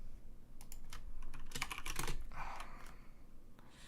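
Quick clusters of computer keyboard keystrokes tap and clatter at close range, a denser flurry in the middle before trailing off, over a low background hum and no voices.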